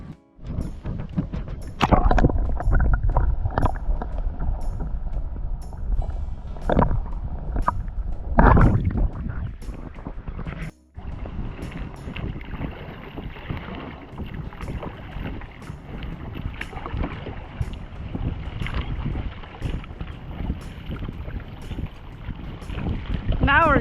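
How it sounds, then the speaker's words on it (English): A kayak on a solo river trip runs through shallow rapids, its hull scraping and knocking against the riverbed in loud, uneven bursts. Rushing water and wind noise continue throughout. "Starting to scrape a little bit."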